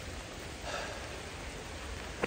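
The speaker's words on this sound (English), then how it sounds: "it started raining." Steady soft rain hiss on a Welsh mountain with a faint patter of drops, one sharper tap near the end, fairly quiet and even throughout.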